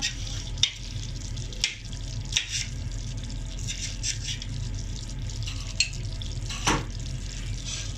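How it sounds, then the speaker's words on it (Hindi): Spiced liver masala (kaleji) frying in oil in a pan gives a loud, steady sizzle throughout, broken by a few sharp stirring scrapes, with no voices. "ये देखिए फ्रेंड्स ऑयल ऊपर आना शुरू हो गया है, मतलब ये अच्छी तरह से फ्राई हो गया है।"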